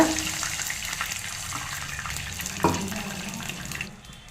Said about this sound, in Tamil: கொஞ்சமாக தண்ணி சேர்த்துக்கலாங்க